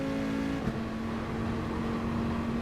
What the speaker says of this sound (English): We're revving the engine right to the max.